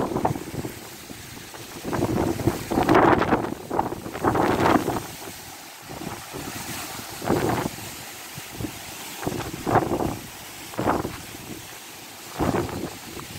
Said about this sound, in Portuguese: Olha só, gente, a força do vento.